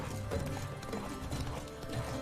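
A horse's hooves clip-clop rapidly at a gallop in The Witcher 3 game, a steady drumming rhythm under other game sounds, fairly faint.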